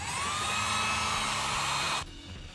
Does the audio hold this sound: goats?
no